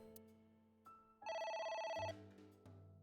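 In AI: The Somnium Files, a game telephone lets out one loud, bright electronic ring lasting close to a second, set against soft background music and a few quieter tones, with nobody speaking.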